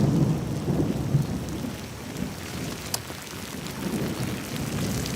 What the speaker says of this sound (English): OK, you can cut the rain.